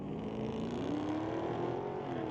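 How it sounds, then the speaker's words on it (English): A 1986 Chevrolet El Camino launches in a street-legal drag race at Mission Raceway Park, a loud engine climbing steadily in pitch as it pulls away, with a second engine droning underneath. "Racing Brent Elliott's 1986 El Camino."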